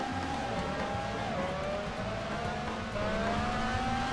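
Racing car engines in the Ridge Racer-style driving section of the video game Go Vacation: a steady engine drone with gliding pitch that shifts as gears change, accompanied by background game music.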